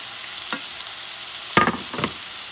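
A spoon stirs spicy dirty rice with vegetables in a hot pan, giving a few short scraping, sizzling strokes over a quiet hiss.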